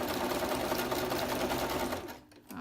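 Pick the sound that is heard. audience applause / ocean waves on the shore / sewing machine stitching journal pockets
sewing machine stitching journal pockets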